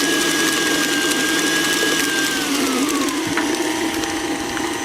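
An electric mixer whirs steadily through pumpkin snickerdoodle batter with egg, a close, continuous motor whine that drops slightly in pitch partway through.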